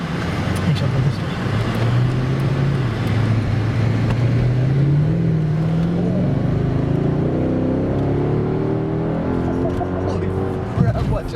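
Mercedes CLS 55 with a replaced engine driving and revving, its pitch climbing and falling through acceleration, heard from inside the car with people talking over the engine.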